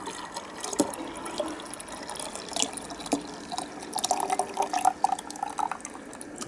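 Filtered liquid drips and trickles into a container during aluminium-based gold recovery, with faint irregular drops and small splashes close by in a quiet room.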